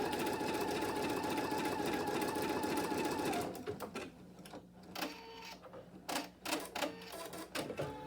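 An embroidery sewing machine runs a placement stitch for a bunny appliqué inner border, a steady loud whir for about three seconds, then stops, leaving intermittent clicks and short mechanical bursts.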